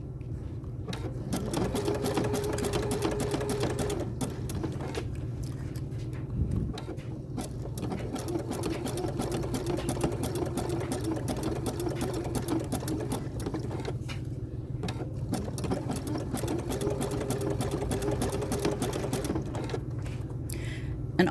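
A sewing machine stitches a coiled rope basket in short bursts, its rapid mechanical clatter starting and stopping repeatedly at close range, with brief pauses and faint creaks between runs.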